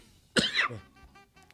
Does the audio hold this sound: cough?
yes